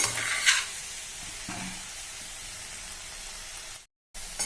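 Ivy gourd curry fries in a pan with a soft, even sizzle, a couple of brief stirring scrapes near the start, and a short break in sound near the end.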